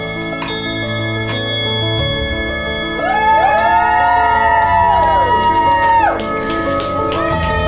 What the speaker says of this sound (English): Ring this bell 3 times well.